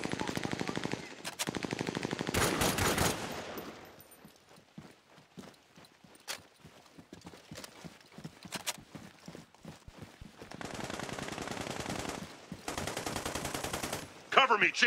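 Rapid machine-gun bursts and single shots crack through the game Army of Two: The Devil's Cartel, loud volleys at the start and again near the end, with scattered shots and clattering steps in the quieter middle stretch.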